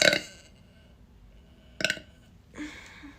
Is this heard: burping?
yes